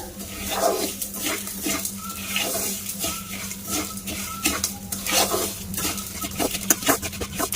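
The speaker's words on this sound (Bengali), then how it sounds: "দেখো চিনির ক্যারামেলটা আস্তে আস্তে তৈরি হয়ে যাচ্ছে আর আস্তে আস্তে আর এটা একদম লো ফ্লেমে দেবো" Sugar caramelizing over a low flame in a wok, with soft scraping and stirring against the metal, light clinks, and a faint sizzle underneath. The sounds are intermittent and close by.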